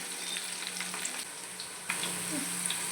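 Onions fry in oil in a pan for mutton sambhar, giving a steady, close sizzling hiss that stays even throughout with a slight rise partway, and no voices.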